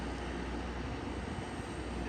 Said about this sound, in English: So this is one of the helicopters.